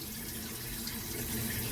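Water runs steadily from a kitchen tap into a sink during dish washing, a continuous hiss and splash at moderate level with no talk over it.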